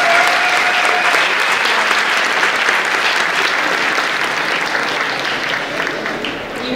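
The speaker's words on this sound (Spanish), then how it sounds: "Un fuerte aplauso. Un fuerte aplauso." A large audience at a university campus festival gala in Alcoi bursts into loud, sustained applause for award winners, with dense clapping up close that holds steady throughout and fades slightly near the end.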